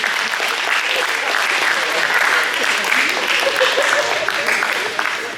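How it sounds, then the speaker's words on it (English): An audience claps and cheers steadily at a high school post-prom hypnosis show, a dense, continuous round of applause filling the room close by, with some voices mixed into the crowd. "Give a round of applause, everybody."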